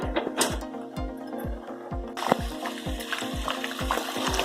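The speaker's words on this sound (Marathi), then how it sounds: "बघा झाले आता सगळे वडे तळून" Sabudana vadas deep-frying in hot oil, a steady close sizzle with a regular clicking, pulsing rhythm running through it, no talk.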